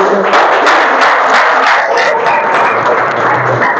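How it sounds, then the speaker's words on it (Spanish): A congregation claps loudly and steadily at a church worship gathering, dense applause with some cheering voices mixed in. "Démosle un aplauso, Señor"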